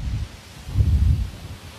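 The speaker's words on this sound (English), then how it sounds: "It's a little windy out here right now." Gusts of wind buffeting outdoors, a low rumbling roar that swells in the middle and eases off, with no voices.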